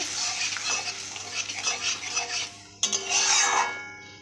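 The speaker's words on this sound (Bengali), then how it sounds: "টক দই দিয়ে আমি ফুটিয়ে নেব এইভাবে" Sour yogurt stirred and simmering in a pan for dosa chutney, a continuous close sizzle with scraping spoon strokes, a brief pause and a clack, then sizzling resumes and fades, with no voices.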